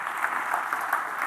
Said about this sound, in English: Let's give a round of applause to everything so far.